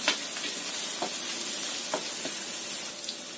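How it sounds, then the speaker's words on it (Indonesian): Grated garlic and ginger sizzle steadily in a hot pan, a continuous bright frying hiss with a few soft stirring clicks, close and alone with no voices. "Kita masukkan bawang putih parutnya. Kita tumis sampai tercium bau enak."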